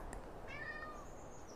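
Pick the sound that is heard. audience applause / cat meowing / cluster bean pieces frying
cat meowing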